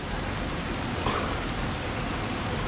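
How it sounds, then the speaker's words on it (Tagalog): Steady rain hisses continuously, a dense even wash of falling drops with no other sounds standing out. "At malas mula kagabi, umuulan."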